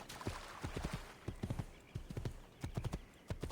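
Rhythmic clip-clop of horse hooves at a gallop in Assassin's Creed 2, riding across the countryside around Forlì, with close, quick hoofbeats in bursts and brief pauses between them.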